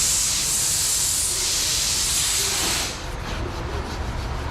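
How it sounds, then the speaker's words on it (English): Brake cleaner solvent sprays from an aerosol can onto painted metal, a loud steady hiss for about three seconds that then cuts to a quieter, rougher trailing spray. "Yes, I can spray the brake clean on the paint."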